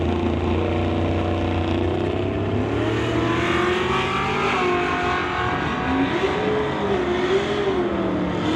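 Drag race cars, a Nova Wagon and a Ford Mustang, launching at an NHRA Summit ET Series event, with loud, sustained engine roar and climbing revs heard from trackside without speech.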